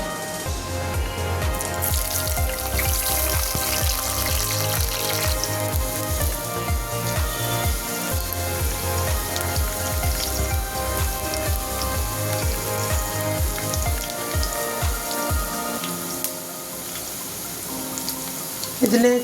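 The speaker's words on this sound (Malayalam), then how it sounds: "വെളിച്ചെണ്ണ നല്ലപോലെ ചൂടായിട്ടുണ്ട്. ഇതിലേക്ക് നമ്മൾ അരിഞ്ഞു വെച്ച വെളുത്തുള്ളി ഇഞ്ചി ഇട്ട് കൊടുക്കാം." Chopped garlic and ginger drop into hot coconut oil for a fish curry, giving a loud, dense, continuous crackling sizzle close by that holds steady throughout, with some faint talk underneath.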